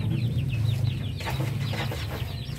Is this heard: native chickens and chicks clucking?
yes